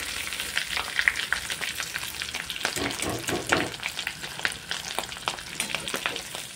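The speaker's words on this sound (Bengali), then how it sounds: "আলুগুলোকে লাল লাল করে ভেজে নামিয়ে নেব" Potato pieces with a pinch of turmeric fry in hot oil until reddish, a busy crackling sizzle with rapid pops and occasional stirring scrapes, close and steady.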